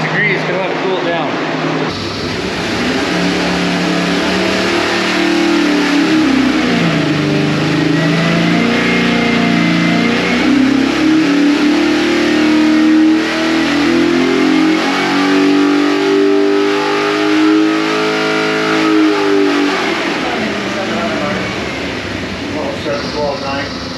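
A Chevy big block 572 V8 on a dyno runs loud and close, its roar climbing steadily in a long pull and then dropping back off toward the end.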